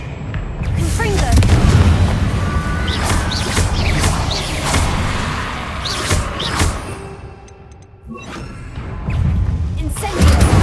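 Confringo spell explosions in a video game, repeated loud booms and crashes with scattered sharp cracks, dipping briefly before the blasts resume. A voice is heard in the mix.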